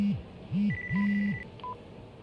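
A phone rings in the video game Yakuza Kiwami 2, giving three short electronic warbling tones in quick succession, loud and close, with faint beeps over a low background hum.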